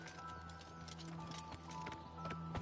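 Horse hooves clip-clop in Oblivion Remastered as a rider passes, a quick run of light, irregular knocks over a soft game background that grows slightly louder toward the end.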